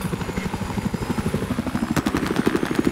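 Rapid rhythmic chopping of helicopter rotor blades in Battlefield 4, steady and fairly close, growing a bit louder toward the end.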